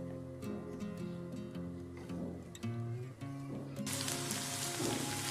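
Okra (bhindi) frying in a pan, a soft steady sizzle and crackle under background music, growing louder and brighter near the end.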